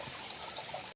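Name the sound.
small river or creek trickling in a cave area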